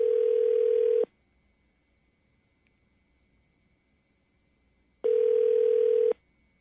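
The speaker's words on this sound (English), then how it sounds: "We're dialing right now." Telephone dial tone sounding in two steady one-second bursts with a pause between, loud and clean with no talk over it, as a radio morning show places a call.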